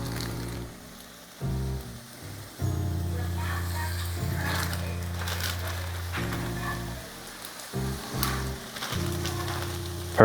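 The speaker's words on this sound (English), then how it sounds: "now that the fish is in the oil" Walleye fillets crackling and sizzling in a pan of hot oil for a shore lunch on the ice, a steady close hiss broken by brief pauses and louder bursts, with faint low rumbling underneath.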